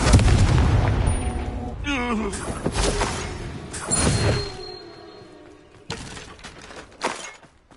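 Confringo, the explosive blast spell in Hogwarts Legacy, bursts several times with shattering booms and crackling debris, separated by whooshing spell sounds and fading rumbles within busy combat noise.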